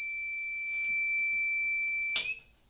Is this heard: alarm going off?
yes